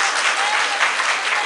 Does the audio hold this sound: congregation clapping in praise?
yes